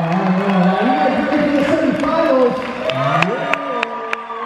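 Crowd noise at a breakdance world championship semifinal: cheers and clapping under an MC's amplified voice and music, loud and close throughout.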